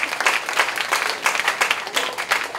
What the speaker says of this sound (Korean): 한번 뜨거운 박수 부탁드리겠습니다.